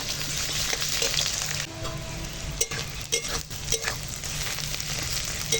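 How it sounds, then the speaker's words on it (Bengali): Onion, green chili and bay leaf fry in hot oil with a loud, dense crackling sizzle close by, interrupted by a few knocks and scrapes of a utensil partway through, and no one speaks. "ওই তেলে এখন দিয়ে দিলাম তেজপাতা আর দিয়ে দেবো কেটে রাখা পেঁয়াজ কাঁচা লঙ্কা দিয়ে এখন ভালো করে ভাজবো একটু"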